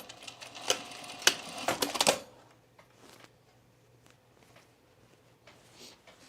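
A sewing machine stitches over a cover stitch seam on a camisole in a short run of rapid clattering stitches for about two seconds, then stops, leaving faint handling noises.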